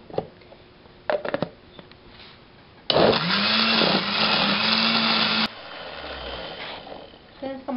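A blender grinds soaked guajillo and ancho chiles in their soaking water, a loud, steady whir that starts abruptly, runs about two and a half seconds, then cuts off. Brief knocks and handling noises come before and after.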